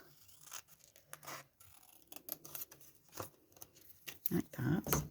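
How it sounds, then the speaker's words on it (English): Scissors snip away excess bits of craft material in a short run of sharp cuts and small paper-like tearing sounds, close up, with someone talking over the cutting. "So I'm just cutting these extra bits off."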